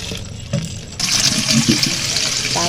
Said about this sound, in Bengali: তো কচু পাতাগুলো ভালো করে ধুয়ে নিচ্ছি